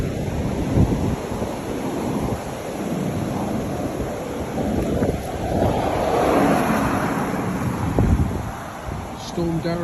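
Strong gusts of Storm Darragh roar and buffet outdoors in Mepham, a loud continuous rumbling wind with heavy microphone buffeting, and a voice is audible beneath it.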